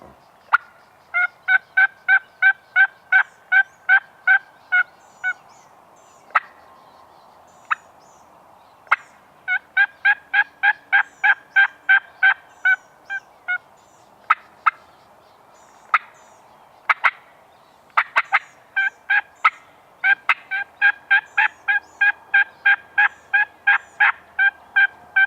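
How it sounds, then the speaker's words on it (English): A wild turkey gobbles repeatedly in rapid rattling bursts, loud and clear against a quiet background, with occasional sharp clicks between calls. "We just heard one gobble over across the road."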